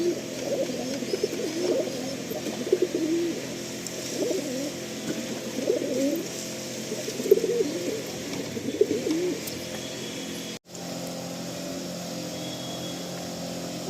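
Domestic pigeons coo repeatedly in a loft, soft rolling calls overlapping one another at close range over a steady background hum, with a brief dropout near the end.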